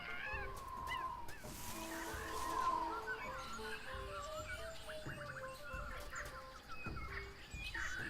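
Birds chirp and cluck in the video game Tales of Monkey Island over a steady outdoor ambience, with a few scattered calls rising above the continuous background.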